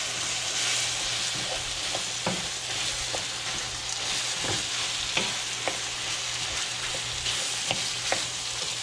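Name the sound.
onions and shallots mixed into frying meat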